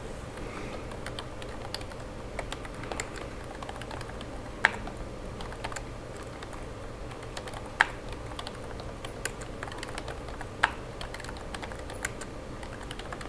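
Sparse, crisp keystrokes on a computer keyboard while values are entered in CAD drafting software, a few isolated clicks spaced seconds apart over a soft steady room hiss.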